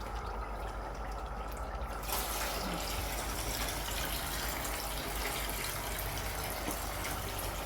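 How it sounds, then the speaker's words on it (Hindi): Water poured from glasses into a cooking pot of pulao with browned masala, a steady loud gushing splash that begins about two seconds in and continues to the end, with no talking. "तीन गिलास में पानी डालूँगी, इसमें ऐड करूँगी।"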